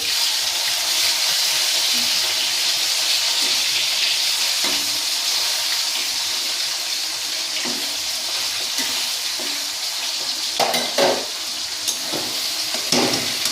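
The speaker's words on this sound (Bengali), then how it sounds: "মাছ ভাজা হচ্ছে" Fish sizzles steadily in hot oil in a pan, with occasional stirring clatters and brief louder crackles toward the end, no talk.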